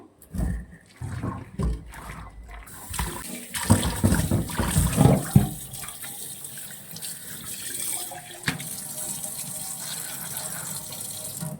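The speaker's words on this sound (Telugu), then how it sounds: "చూడండి, ఈ వాటర్ని అంతటిని మనం పడేద్దాము" Water pours out of a clay pot in a strong, gurgling stream for several seconds, then fades to a steady hiss of running water.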